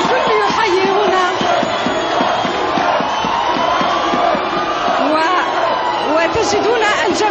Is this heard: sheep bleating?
no